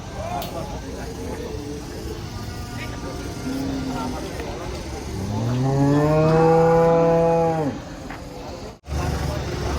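Giant Pegon cattle being unloaded from a truck for Qurban let out one long, loud, close moo midway, over a background of crowd chatter and vehicle noise.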